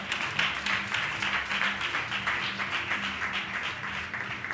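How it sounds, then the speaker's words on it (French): Church congregation applauding during a French-language sermon: steady, dense crowd clapping that continues evenly throughout, with a faint tonal hum underneath. "Acclamons le Seigneur pour ça."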